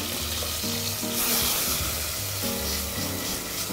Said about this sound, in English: The garlic is start to fry a little bit